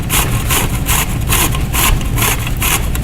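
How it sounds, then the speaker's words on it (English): A soft zucchini being grated by hand, giving a steady, loud rasping rhythm of quick repeated strokes, close and alone with no talking. "It's actually very easy to hand grate a zucchini"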